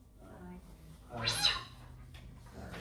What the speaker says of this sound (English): Is that a feral cat?